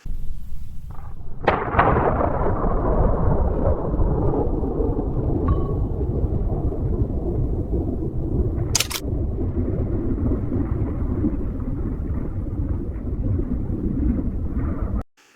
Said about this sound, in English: One pull of the trigger, and the boom hits like nothing else.